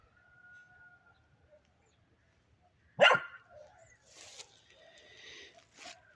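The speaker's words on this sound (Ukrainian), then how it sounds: "Сусідські собаки бігають собі." A single sharp bark from a neighbor's dog rings out from a distance in an autumn garden after a quiet stretch, followed by fainter scattered noises.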